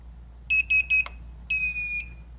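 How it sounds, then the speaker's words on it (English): An infrared barrier tower beeps three times in quick succession when switched into alignment mode, then gives one longer beep; the tones are clear, close and high-pitched over a quiet background hum. "The 3 quick beeps mean alignment mode."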